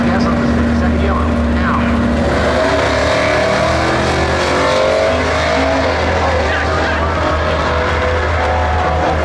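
A school bus accelerates hard on a drag strip at a raceway, a loud, close engine roar that climbs in pitch through gear changes, with a voice talking over it.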